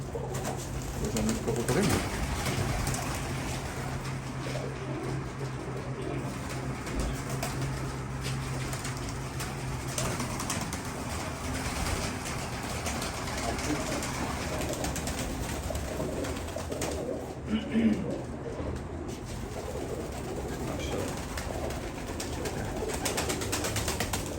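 Pigeons coo softly and repeatedly inside a coop in Istanbul, several birds overlapping in a continuous low murmur, with brief faint voices now and then.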